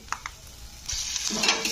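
Peanuts frying in a pan over a low flame: a couple of light stirring taps at first, then a broad hiss of frying swells up and holds steady, close and fairly quiet.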